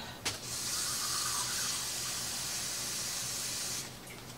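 Tap water runs steadily into a measuring cup, filling 3/4 cup of water to mix with heavy whipping cream for half and half, a continuous bright hiss from start to finish with no talking.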